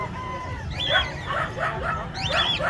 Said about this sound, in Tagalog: So sobrang dami rin talaga ng mga aso rito.